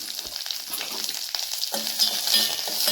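Mustard seeds, fenugreek, cumin, curry leaves and dried chillies crackle and sizzle in hot oil for a sambar tempering, a close, continuous frying with light popping and stirring and no talk.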